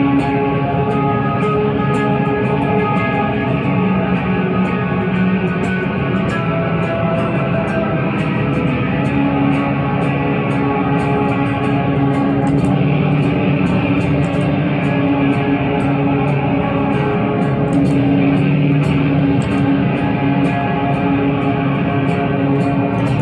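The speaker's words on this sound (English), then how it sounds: "the last sound that I don't tend to use too much is that boosted gain on the tides" An electric guitar through a Tides pedal on its boosted gain setting, a loud sustained distorted tone with ringing layered harmonics that holds steady throughout, with no talking.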